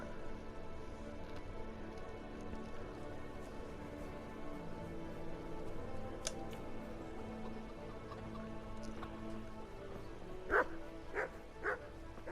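In the video game Kingdom Come Deliverance, a dog in the medieval town of Rattay barks a few times in quick succession near the end, over a soft ambient bed of game background sound.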